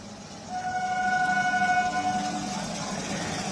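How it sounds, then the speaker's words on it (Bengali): A train at a railway crossing near Nasibpur station in West Bengal sounds a long, steady horn blast of about two seconds over a low rumble of rail noise, heard from nearby. "ট্রেন দেখুন দাঁড়িয়ে আছে"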